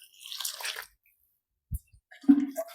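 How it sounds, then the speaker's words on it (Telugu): Water poured into sakinalu rice flour dough during Sankranti cooking comes as a short wet splash, then a brief pause and a second, splashier pour with dripping. "నీళ్ళు పోసి"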